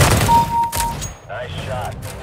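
Rapid gunfire bursts from a Counter-Strike: Global Offensive match, a few sharp shots close in, followed by in-game effects and a player's voice talking over it.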